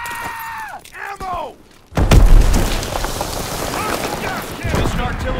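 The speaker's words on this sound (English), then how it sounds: "Enemy mortar fire incoming!" Mortar shells burst in a Call of Duty WW2 battle, a deep heavy boom landing partway through and leaving a rumbling, crackling wash under overlapping shouted radio-style voices.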